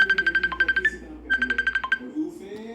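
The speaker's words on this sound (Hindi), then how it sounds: "और फ़ोन आ रहा है" Mobile phone ringtone chirps in fast, repeated electronic pulses, two bursts separated by a short gap, loud and close, with faint background sound underneath.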